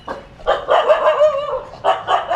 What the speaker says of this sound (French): quand les chiens aboient comme ça, faut juste leur dire hey